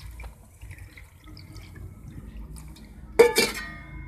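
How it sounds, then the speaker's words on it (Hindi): Water poured over large cut spinach leaves in a kitchen to wash off soil, a brief splashing gush near the end after quiet handling sounds. "पालक के अंदर हम पानी डाल देंगे,"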